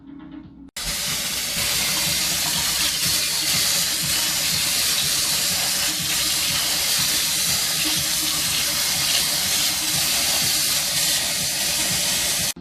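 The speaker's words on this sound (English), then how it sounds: "I'm going to take this over now and run it under some cold water" Cold tap water running over broccoli in a sink, a steady, loud rushing splash that starts abruptly and continues unbroken to the end.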